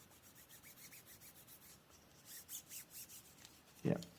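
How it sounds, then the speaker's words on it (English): Fingertips rubbing along the etched metal barrel of a Uni Kuru Toga mechanical pencil, giving a faint, close, dry squeaky rasp in short repeated strokes, with a brief louder scrape near the end. "you run your fingers along it, and it just makes this sort of squeaky noise"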